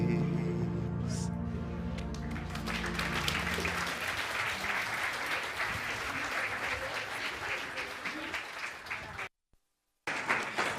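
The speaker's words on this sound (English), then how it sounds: "One more round of applause" Sustained applause from a large audience at the opening ceremony of the Commonwealth People's Forum, a dense continuous roar of clapping that follows music fading out, broken by a brief silence near the end.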